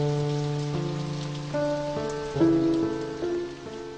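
Rain falling as a soft, steady wash of noise beneath prominent melodic music, continuous throughout with no break.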